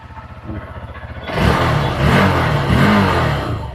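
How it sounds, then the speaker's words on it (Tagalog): A Suzuki V-Strom 160 motorcycle engine starts up and settles into a steady, fairly quiet running hum with slight revving, close by and alone. "Nag-start siya. And sobrang tahimik ng makina."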